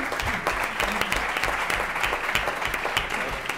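Audience applause at a round-table discussion on sport and women, a dense, even wash of many hands clapping that sustains throughout.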